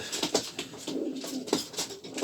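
Polish postal show pigeons coo up close, giving several soft, throaty, rolling calls in quick succession.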